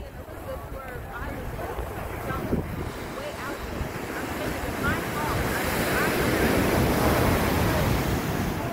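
Ocean surf rolls against a Hawaiian shore below a cliff, a constant wash that swells louder toward the end, mixed with wind buffeting the microphone and people talking.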